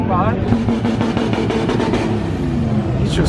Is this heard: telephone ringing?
no